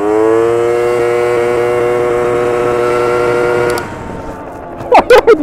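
A 70cc MBK Booster scooter engine drones steadily with a strong tonal whine, loud and close, then drops away near the end as a voice speaks briefly over it.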